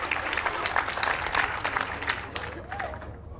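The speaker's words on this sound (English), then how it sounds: "thank you for the applause" Audience applause fills a live comedy news show, a dense patter of many hands at moderate level that tapers off toward the end, with a voice speaking over it.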